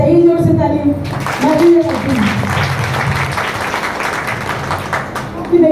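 Audience clapping at a public gathering for a newly opened maternity centre, a steady crowd of hands applauding for several seconds, following a voice over a loudspeaker at the start and with a voice returning at the end.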